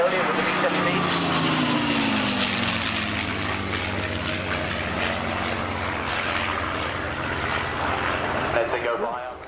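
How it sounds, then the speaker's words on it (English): Two P-51 Mustang warbirds roaring past at Shoreham Airshow, a loud close piston-engine drone with a falling pitch as they pass, and a commentator talking over it. "In come the two Mustangs, Maurice Hammond and Dave Evans"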